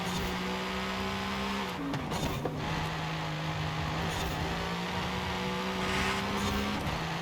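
A Mercedes AMG GT3 race car in Forza Horizon 5 holds a steady, loud engine drone throughout, with a brief shift or tyre scrub near two seconds before the engine note carries on unbroken.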